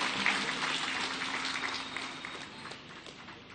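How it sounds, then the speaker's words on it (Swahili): A crowd at a state ceremony in Kenya claps steadily for the President of Comoros, a dense, even wash of applause that slowly fades a little. "Tumpigie makofi jameni"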